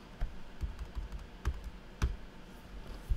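Computer keyboard typing during web design work, a steady run of close, distinct key taps and thuds spaced irregularly, with no speech.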